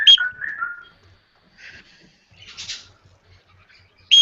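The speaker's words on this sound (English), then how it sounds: "Do you have to listen to that chirping all night long?" Pet birds chirp indoors in short high whistling bursts with quiet gaps between them, near and fairly clear.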